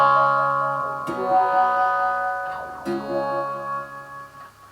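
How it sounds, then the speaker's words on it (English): An electric guitar played through a wah pedal into a delay on a Decibel Eleven Pedal Palette: two sustained, sweeping chords ring out with harmonic overtones and repeating echoes trailing off, with no talk. "Let's hear how the wah sounds going into a delay."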